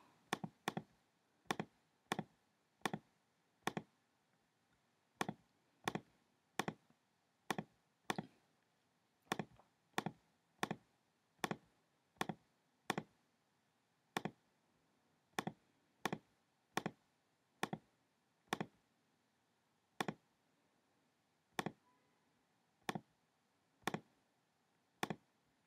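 Keys pressed one by one on a TI graphing calculator while entering a list of numbers, a steady stream of sharp, close plastic clicks at an uneven tapping pace, with no talking.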